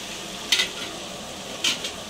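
Tomatoes sauté with ginger garlic paste in a pan for mutton biryani made with seeraga samba rice, two brief bright sizzling stirs rising over a steady low frying hiss.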